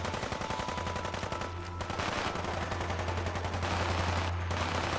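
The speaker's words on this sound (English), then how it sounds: "where are these shots coming from?" Rapid automatic gunfire in Fallout 4 rattles in dense bursts of shots, loud and continuous with brief gaps, backed by a low humming drone.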